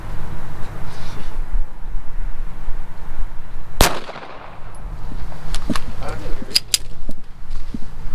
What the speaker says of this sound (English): we're gonna shoot that and see what it does